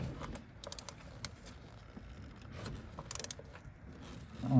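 A socket wrench ratchets while working a spark plug loose on a 2019 Dodge Charger Scat Pack, with quiet clicks and pawl ticks, a brief burst of rapid ratcheting midway, and a louder clunk at the end over low shop noise.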